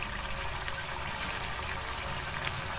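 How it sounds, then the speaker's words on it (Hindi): A radish paratha drops into hot frying oil, giving a steady, close, even hiss of sizzling with no voices over it. "अब चलिए इसको छोड़ते हैं तेल में।"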